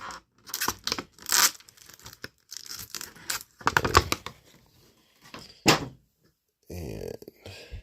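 Tape and plastic packaging are torn and crinkled to free a toy flute from a Dark Crystal action figure set, coming in short irregular bursts of ripping and rustling between pauses, with someone talking.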